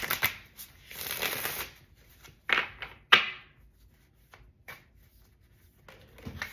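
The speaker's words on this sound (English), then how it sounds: "Let's do one more shuffle, y'all." A deck of tarot cards riffled and shuffled up close, a soft rushing flutter followed by a few sharp snaps and taps as the cards settle.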